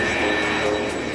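An A-10 Warthog (Thunderbolt) military jet roars past in a dense, steady, loud wash of engine noise with no pauses.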